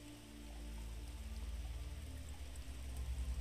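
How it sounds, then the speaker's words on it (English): Rain falls outside as a soft, even patter under a low background hum, faint and steady throughout, with no voices. "imagine that you're being told this sleep story to the relaxing backdrop of rain outside."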